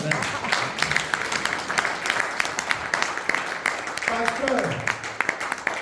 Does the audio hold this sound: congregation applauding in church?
yes